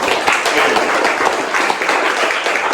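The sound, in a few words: round of applause for councilman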